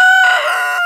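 A single chicken, one of a farm's hens, gives one short, loud, close call, a brief clucking crow with a sharp harmonic tone.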